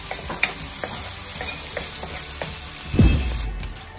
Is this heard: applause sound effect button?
no